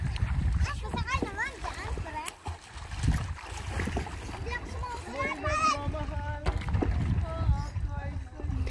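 Oars or paddles work a small boat along a river, with splashes and dipping strokes running underneath near, lively chatter and shouts from children and adults throughout.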